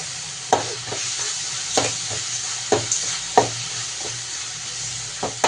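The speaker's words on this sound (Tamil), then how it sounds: "இஞ்சி பூண்டு பேஸ்ட்டு போட்டு நல்லா அந்த பச்சை வாட்டில் போகிற அளவுக்கு நல்லா வதக்கிக்கலாம்" Ginger garlic paste sautéing with onion and tomato for a drumstick-leaf crab curry: a steady close sizzle with sharp spatula scrapes and taps against the pan at irregular intervals, no voices.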